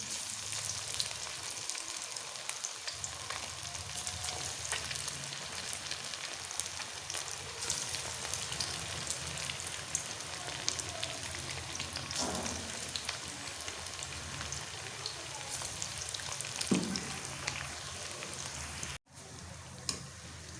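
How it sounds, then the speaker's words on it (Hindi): Chicken pakoras deep-fry in hot ghee with a dense, continuous hiss and crackle like heavy rain, steady and loud, broken by a short drop near the end. "साइडें चेंज करते हुए इस तरीके से फ्राई कर लेंगे।"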